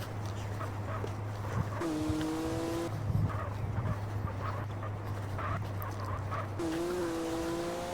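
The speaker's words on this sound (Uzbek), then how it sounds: "Yerda bunaqa mashina haydamaganimga ancha bo'lib ketdi. Driftnoy mashinalar ekan." A drift car in a racing video game holds a steady engine drone throughout, with whining, squeal-like tones rising over it twice. No one speaks.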